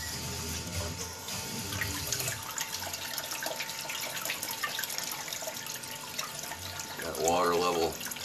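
Water rushing steadily through gold prospecting gear used to process classified concentrates, a continuous close splashing flow, with someone speaking briefly near the end.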